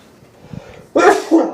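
A single sharp sneeze bursts out close and loud after a few quiet seconds, with a softer second burst right behind it.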